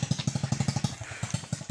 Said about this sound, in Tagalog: Dahil hindi kaya yung motor na makaakyat ng ganong kabilis